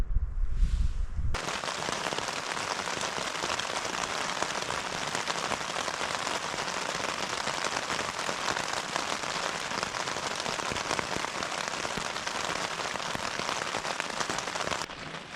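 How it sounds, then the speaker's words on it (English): Steady rain drums on a tent at an evening camp in Jotunheimen, Norway, a dense, even patter that holds loud and close throughout after a brief low thump at the start. "It's still raining."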